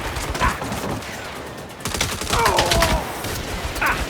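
A mounted machine gun fires in sustained, rapid bursts in the video game Saints Row (2022), loud and close, with a brief lull midway before the chatter resumes.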